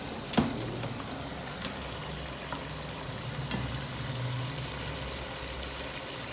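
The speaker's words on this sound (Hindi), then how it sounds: "अभी इसमें मैं डालने लगी हूँ चिकन, जो कि मैंने फ्राई किया है।" Fried chicken goes into a chicken tikka biryani masala, giving a faint, steady sizzle in the pan, with a soft clink near the start and no voices.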